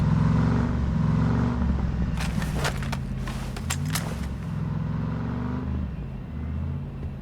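A car engine in the video game PUBG hums and rumbles steadily throughout, with a few sharp clicks and taps partway through; no one speaks.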